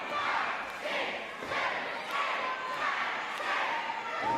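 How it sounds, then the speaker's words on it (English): A Blackpool wrestling crowd roars and chants during a tag match featuring Jody Fleisch and Jonny Storm, a dense, steady wall of cheering voices with rhythmic surges and occasional shouted calls rising above it. "this Blackpool crowd started to come alive for Fleisch and Storm"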